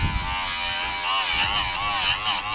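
A Lidl drill bit sharpener runs with a steady high-pitched electric whine and buzz while a drill bit is ground against it, its tone wavering slightly as the bit is pressed in.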